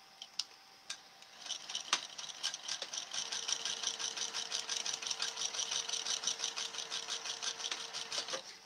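A sewing machine runs a steady seam at an eighth-inch allowance while making a bag, its fast mechanical ticking continuous and close after a few isolated clicks at the start, with no talking.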